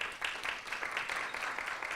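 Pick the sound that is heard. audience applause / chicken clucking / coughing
audience applause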